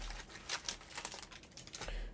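Booster packs of Edge of Eternities trading cards shuffled by hand, giving a quiet, close run of crinkly foil rustles and soft slaps in several brief bursts.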